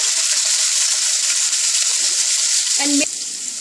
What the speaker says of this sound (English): Here goes garlic along with some ginger in it. Give it a quick stir.